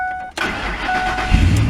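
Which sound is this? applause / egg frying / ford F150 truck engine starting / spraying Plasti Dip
ford F150 truck engine starting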